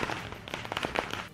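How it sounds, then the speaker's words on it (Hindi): Fireworks and firecrackers pop during a crowded election victory celebration in Ahmedabad: rapid irregular cracks and bursts over dense crowd noise, fairly distant and continuous. "अहमदाबाद में आतिशबाजी ऐसी हुई कि घंटों तक थमी ही नहीं।"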